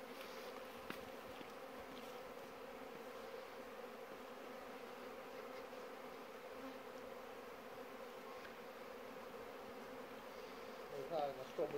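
A steady, dense hum of many bees buzzing at an apiary continues throughout, fairly close, with faint voices briefly near the end.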